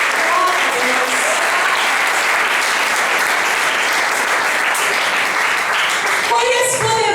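A church congregation applauds in praise to God, a dense, steady wash of clapping that carries at the same level from start to finish, with a brief tonal sound near the end.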